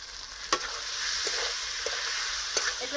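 Chicken sautéing in a pan for a chicken-stuffed potol dish, a continuous close sizzle with a few short spoon scrapes and taps scattered through it.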